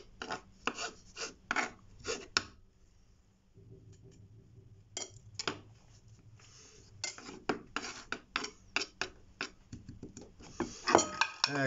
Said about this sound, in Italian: anche il prezzemolo è stato triturato e lo aggiungiamo al composto